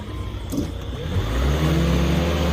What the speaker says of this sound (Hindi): क्या दोस्तों ये गाड़ी निकल पाएगी?